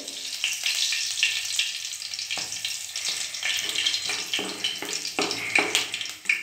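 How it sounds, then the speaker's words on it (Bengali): Cumin seeds, green chillies and chopped ginger tempering in hot oil, a soft bubbling sizzle with sharp crackling spits and occasional stirring clicks, fairly quiet with no voices. "আমরা ফোড়ন দিয়েছি জিরে, কাঁচা লঙ্কা আর আদা কুচি। লঙ্কাটা একটু ভাজা হয়ে আসলে"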